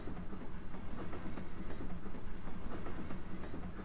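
A moving train in the Paper Mario: The Thousand-Year Door video game, a steady rumble with rhythmic clickety-clack pulses, loud and continuous with no talking.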